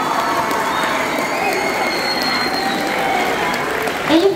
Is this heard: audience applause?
yes